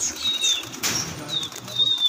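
Pigeons' wings flap in a quick burst as a flock takes off, with faint chirps around it and open outdoor ambience.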